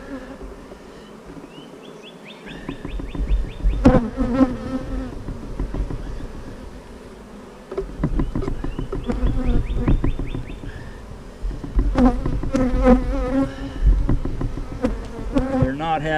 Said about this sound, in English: these bees are ornery.